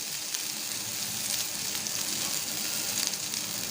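Chopped onions sautéing lightly in a pan for a potato fry and raw banana stir-fry, giving a steady, close, dense sizzle with faint stirring scrapes throughout.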